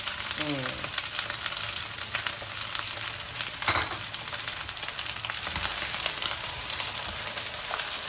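Onions frying in oil for a chicken curry, a steady close sizzle with faint stirring scrapes throughout and a brief louder burst partway through.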